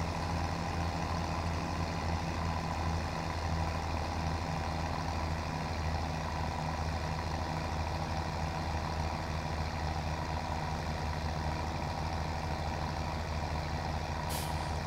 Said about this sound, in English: Maybe this tractor pulls it a little less